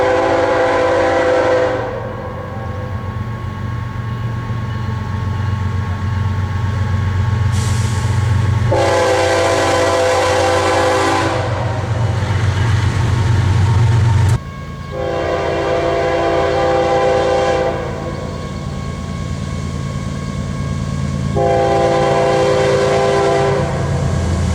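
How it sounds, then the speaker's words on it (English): Several long, loud blasts of a K5HL five-chime air horn on a BNSF GE Evolution Series Gevo locomotive such as an ES44AC, sounding alone in a sustained pattern with short breaks between them. "come with the K5HL horn, which will sound something like this."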